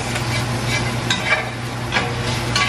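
Food is stirred in a pan with a small knife, making soft intermittent scrapes and clinks over a steady low sizzle and hum, close by but fairly quiet, with no one talking.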